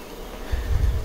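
A crowded honeybee hive with wild comb in the feeder, its close buzzing hum swelling louder in the second half of a short moment.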